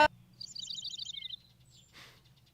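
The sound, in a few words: birds chirping in One Piece anime episode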